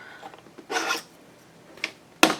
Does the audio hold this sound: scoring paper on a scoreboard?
yes